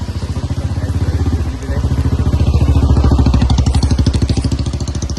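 A motorcycle engine idles close by in heavy rain near Ukshi Ranpat Waterfall in Konkan, with a fast, steady putter, dipping briefly before settling back into its loud rhythmic chug.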